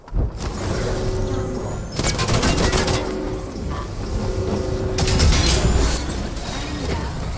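Video game gunfire comes in several sharp bursts of shots amid a continuous, busy background of in-game mechanical noise, moderately loud with no voices.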